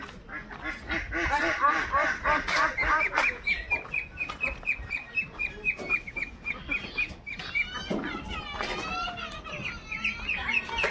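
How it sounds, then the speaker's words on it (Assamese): Large domestic ducks quacking repeatedly at close range in a farmyard, loud rhythmic calls mixed with chicken clucks and occasional voices in the background. "আমাৰ ডাঙৰ হাঁহকেইটা দেখুৱাই দি আছোঁ আপোনালোকক"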